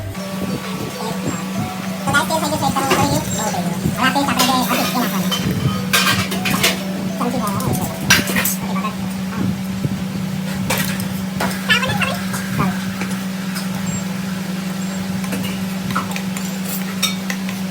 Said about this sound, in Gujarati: હવે આને તેલ થોડુંક નાખીશું, આ પેસ્ટ નાખીશું, થોડું પાણી નાખીશું, કેચઅપ નાખીશું અને ખાંડ નાખીશું અને આને ઘડીક ઉકાળશું